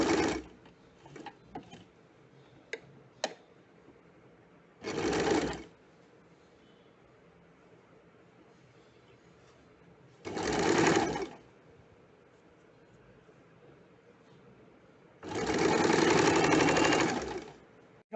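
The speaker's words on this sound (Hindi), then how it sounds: "इस तरह से रख के और इसके ऊपर स्ट्रिप रख के स्टिच करेंगे" Home sewing machine stitching a fabric strip onto a sleeve bottom, three bursts of rapid mechanical whirring separated by quiet pauses, the last burst longest, with a few short clicks at the start.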